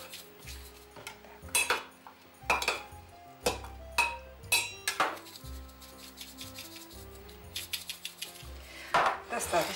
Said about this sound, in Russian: Нарезаем баклажан кусочками, кубиками и присыпаем солью, чтобы дал лишний сок.